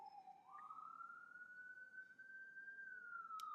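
A distant siren wails in one long rising then steady tone, fairly faint and continuous, with a soft background hum and no talking.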